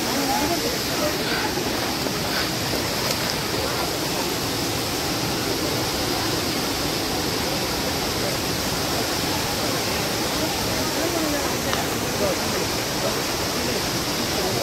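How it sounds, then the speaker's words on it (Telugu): Rapur waterfalls pour with a strong flow, producing a loud, steady broadband roar that continues unbroken throughout, with people talking faintly over it. "ఇదే రాపూర్ వాటర్ ఫాల్స్."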